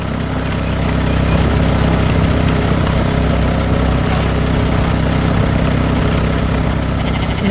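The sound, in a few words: green farm tractor machine working in field, animation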